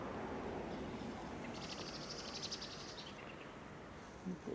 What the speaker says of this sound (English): Birds and things.